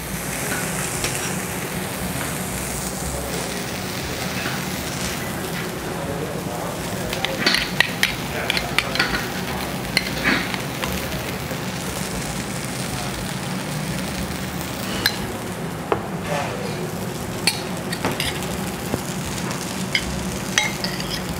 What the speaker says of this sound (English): The guest is then instructed to sear the beef on there.